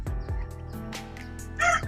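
A chicken ill with snot and a respiratory cold lets out a close, clear crow, with rough clucking calls around it in a short burst. No one speaks.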